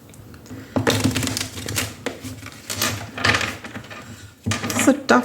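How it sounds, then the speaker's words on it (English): A stiff Modern Witch Tarot card deck being shuffled, giving a series of crisp riffling and slapping bursts at irregular intervals, close up, with a voice talking between them. "It's a tough deck to shuffle."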